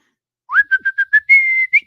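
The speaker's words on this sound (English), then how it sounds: "I can whistle Steamboat Willie now that it's out of the copyright" A person whistles the short Steamboat Willie tune, a clear, close melody of about eight quick notes followed by a held tone, alone without talk.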